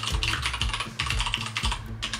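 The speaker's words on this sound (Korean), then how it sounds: "제가 못 배워가지고 이거 타자 치는 거예요." Fast typing on a computer keyboard, close and clear, as a dense clatter of key clicks with brief pauses between runs of strokes.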